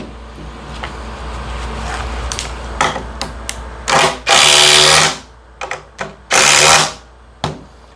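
A DeWalt DCF860 impact driver runs in several bursts, with two long loud rattling runs and shorter quick blips between them, close to the mic and without talk.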